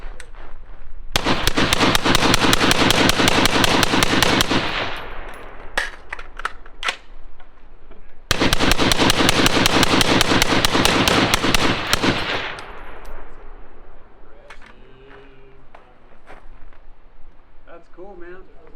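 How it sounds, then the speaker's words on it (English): Rapid rifle fire from two 20-round magazines emptied as fast as possible up into a hillside at a high-angle shooting championship, two long dense bursts of loud cracks separated by a short pause, with echoing rumble after each. "2 20 rounders just as fast as he could send them up into the hill"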